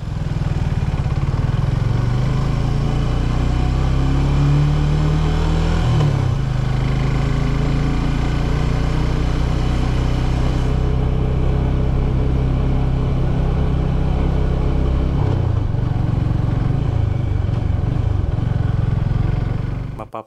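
A car's engine climbs an uphill grade in first gear, holding a loud, steady drone whose pitch sags as it loses power, then recovers and dips again near the end.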